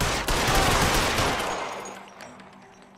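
Video game gunshots in L.A. Noire, a dense loud volley of overlapping shots that stops and decays into a fading echo over a couple of seconds, with no talking.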